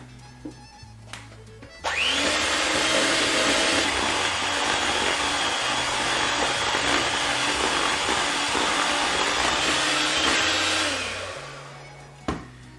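An electric hand mixer whirs loudly and steadily through chocolate batter flavoured with vanilla for about nine seconds, starting abruptly, then winding down and stopping, followed by a single knock; no talking.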